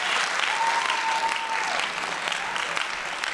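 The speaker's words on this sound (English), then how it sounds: "The more you applaud for Henry" Audience applause at a live stage show, a dense steady wash of clapping from a crowd, loud and close, with a faint voice briefly heard over it.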